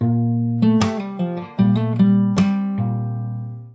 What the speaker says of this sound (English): So the very first part of it sounds like this.